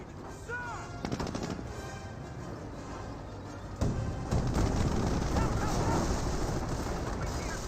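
Battle sounds from Company of Heroes: rapid bursts of rifle and machine-gun fire crackle throughout, with a heavy cannon blast from an M10 tank destroyer facing Panther tanks midway, followed by denser, louder gunfire and rumbling explosions.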